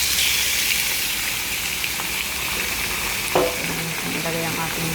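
Pork hits a pan with browned onion, garlic and ginger, sizzling loudly and steadily up close, with occasional clinks of stirring.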